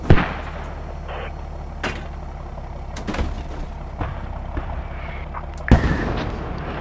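Mortar explosions in the Squad military video game, a series of sharp booms and thuds spaced irregularly over a low vehicle rumble, with one heavier blast near the end.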